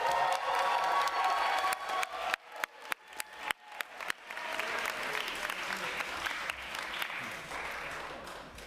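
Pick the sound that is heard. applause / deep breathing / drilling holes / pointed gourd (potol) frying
applause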